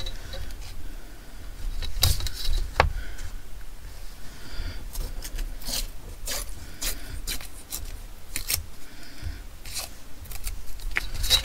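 Crumbly paper being torn by hand for ephemera crafting, with several sharp ripping bursts and soft rustling between them, close and fairly quiet, with no talk.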